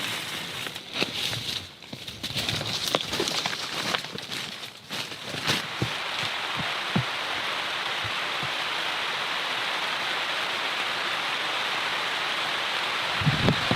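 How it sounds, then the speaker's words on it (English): Rain falls steadily in the Amazon jungle, a soft, continuous hiss with scattered louder drips and patters close by. "It's a healthy rain coming down."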